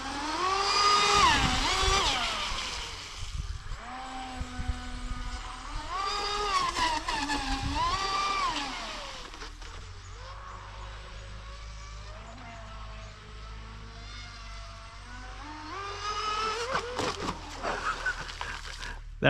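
A Proboat Recoil RC boat with Sonicwake trim tabs and three-blade props runs at half throttle, its electric motor whining in rising and falling pitch sweeps, loud and close, then easing to a steadier lower drone.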